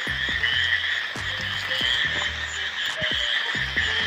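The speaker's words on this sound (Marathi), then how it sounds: "हा बेडूक बघा केवढा मोठा आहे" A big frog at night in a village field where crabs are caught, croaking in short repeated bursts close up over a steady high insect chorus, with no voices.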